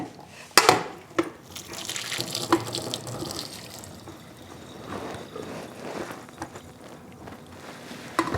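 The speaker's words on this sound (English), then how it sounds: "I'm going to drain the water" Water is poured off from a traditional pressure cooker with the lid held in place, a splashing pour with sharp metallic clanks near the start, followed by softer trickling.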